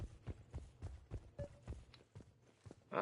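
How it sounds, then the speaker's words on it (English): Footsteps in Mass Effect 3, an even run of soft, close thuds at a steady walking pace, quiet, with a brief noisy burst at the end. "What happened to my footstep sounds?"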